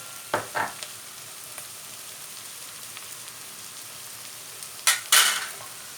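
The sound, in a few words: frying tomato puree with meat and chickpeas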